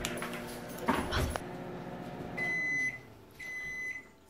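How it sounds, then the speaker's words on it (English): A microwave oven heating a homemade lip gloss mixture hums steadily, broken by electronic beeps, with some clattering and handling noises earlier. "pop it in the microwave for 30 seconds"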